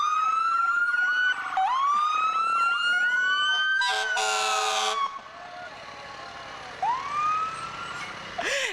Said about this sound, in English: And the lights, the flashing lights and the sirens.